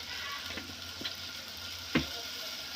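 Dried red chillies fry in a pan as a base for perugu charu, a tangy yogurt curry, with a steady sizzling hiss broken by a few sharp ticks and pops, one louder pop near the end.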